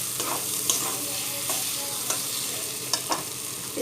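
Chicken masala spices fry in mustard oil with a steady close sizzle, broken by a few sharp scrapes and knocks as a utensil stirs the pan.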